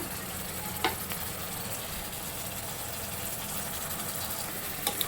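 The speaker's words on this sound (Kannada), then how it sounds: "ಸ್ವಲ್ಪ ಕುದಿಲಿ ಇದು ಚೆನ್ನಾಗಿ" An oil and tamarind mixture bubbles and sizzles steadily in a pan on a gas stove, a continuous close simmer with a couple of faint clinks and no talking.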